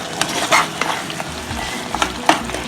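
A spoon stirs cucumber curry with chilli powder and sugar in a hot pan, giving soft scraping strokes over a steady low sizzle, close and moderately loud, with no talking.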